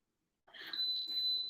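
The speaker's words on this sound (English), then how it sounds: "so you can hear the beep. Pressure cooking has started." A steady high electronic beep from a 6-quart electric pressure cooker rings out after a short silence as pressure cooking starts, sustained for about a second with a slight break, clear and close.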